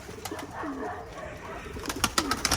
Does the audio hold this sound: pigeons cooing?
yes